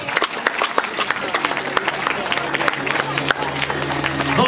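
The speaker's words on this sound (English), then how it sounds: "can you give them all a big round of applause" An audience claps and cheers steadily at a comedy hypnotist show, dense applause filling the room from start to finish.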